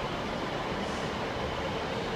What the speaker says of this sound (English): There's another train pulling in.